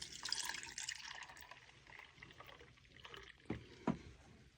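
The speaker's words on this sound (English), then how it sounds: "Then I'm going to very carefully pour it in." A thick yogurt mixture is poured into jars, giving soft liquid splashing and trickling with a couple of sharper plops near the end, close up, with no talking.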